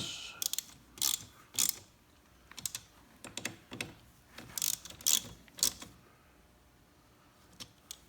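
A ratchet wrench tightening bolts on a Spyder F3 to 16 foot-pounds, sharp bursts of rapid clicking in short strokes, close and distinct with quiet gaps between them.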